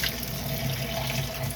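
Water streams steadily from a faucet into a sink while dishes are rinsed, a close, even rushing splash with no pauses.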